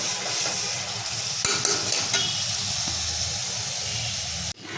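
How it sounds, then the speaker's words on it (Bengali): Lentils for dal bhuna fry and are stirred in a pan, giving a constant hissing sizzle with occasional scraping knocks of the spoon and a sharp clank near the end. "এদিক দিয়ে ডাল ভুনা করতেছি"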